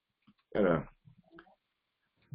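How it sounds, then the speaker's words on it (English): A man on a recorded state conference call clears his throat once, a short rough burst, close and fairly quiet, followed by a few faint soft sounds and near silence. "need to clear my throat there a little bit"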